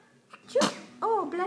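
A baby girl gives a single quick sneeze, close and clear, followed right away by an adult's soft cooing voice.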